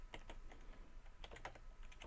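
Fast, uneven keystrokes clack on a computer keyboard, close and fairly quiet, with short bursts and brief pauses while someone types out math homework answers.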